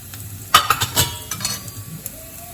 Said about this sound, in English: Now I will add some cumin seeds